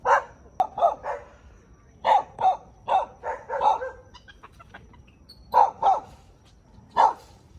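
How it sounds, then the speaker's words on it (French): Three dogs bark at a frightened monkey on a path in Brazil, sharp barks coming in irregular clusters with pauses between, loud and fairly close. "Ils bloquaient le passage et aboyaient sur le singe qui s'est approché de nous comme pour chercher refuge."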